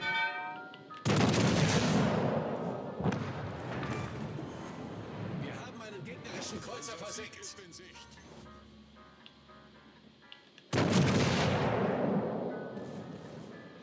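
Naval 13.5-inch guns fire in the World of Warships video game, two loud, booming salvos with long rumbling tails, one near the start and one near the end, while someone talks in between.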